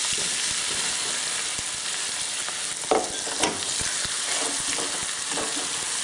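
Ground masala with peanuts, curry leaves and turmeric frying in a pan for spicy rice noodles, a constant close crackling sizzle broken by a couple of brief scraping stir strokes.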